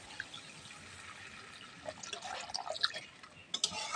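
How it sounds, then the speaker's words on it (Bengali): Water is poured into a fish curry masala, first a soft hiss, then a brief burst of irregular splashes and drips near the end. The sound stays faint, close and unaccompanied. "এবার এর মধ্যে সামান্য পরিমাণে জল দিয়ে দেবো"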